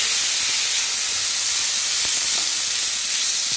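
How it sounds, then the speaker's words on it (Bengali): Potatoes frying in a karai (wok), a steady loud broadband hiss and sizzle running unbroken throughout, with faint clicks of a utensil here and there. "দেখো ওই যে আলু ভাজছি"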